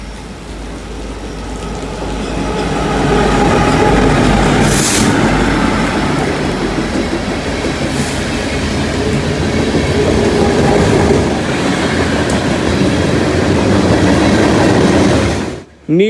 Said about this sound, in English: The first train was a crazy Norfolk Southern manifest, with an ace leading and SD70 ACC in second.